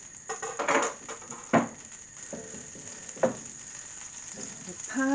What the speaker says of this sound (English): some butter in to give it a bit of flavour. So it's beginning to heat up, and melt the butter now.